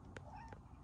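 A faint, short cat meow sounds twice in quick succession in the video game Terraria, quiet under a low background hum.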